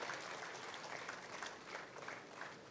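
At a Telugu film audio launch, an audience applauds the Swimming Pool movie team: a steady, fairly faint spread of many hands clapping from start to finish, with no voices over it.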